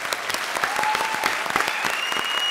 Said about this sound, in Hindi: जोरदार मेरी फिल्म के लिए ताली।